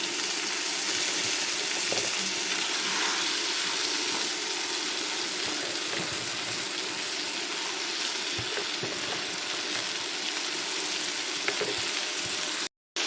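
Red amaranth greens fry in oil with turmeric, spices and naga chili in a pan, producing a loud, steady, continuous sizzle close by that cuts off abruptly at the end, with no talking.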